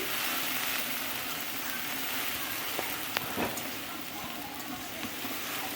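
Spices and slit green chillies cook down in a pan with a splash of water for a fish curry, giving a soft, steady sizzle and hiss with a few faint clinks.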